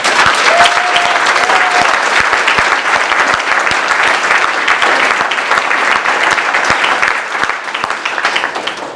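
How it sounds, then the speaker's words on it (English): A crowd at a school board meeting applauds, the clapping dense, loud and sustained the whole time, with a few sharper individual claps standing out. "I'd like a big round of applause."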